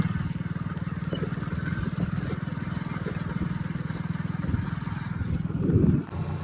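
A JCB machine's engine runs on a road with a steady, rapid chugging pulse close by, swelling briefly near the end.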